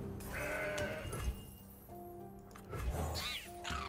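A goat's bleat from the Mountain Goat card in the Legends of Runeterra card game, heard twice as short nasal cries over layered game music and effects.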